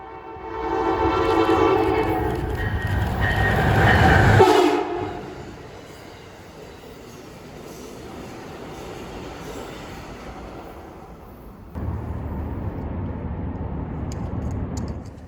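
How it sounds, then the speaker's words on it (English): Amtrak 302 Lincoln Service passenger train arriving at Lamont, with a loud horn blast followed by the rumble and clatter of cars rolling past, heard from nearby and rising again near the end. "showing up not long after we arrived in Lamont was Amtrak 302, Lincoln service from St. Louis, Missouri."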